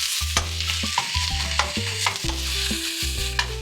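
Ground pork sautés in a pan, a loud, close sizzle broken by a rapid series of low thumps and scrapes as a utensil pushes the meat around, with no talking.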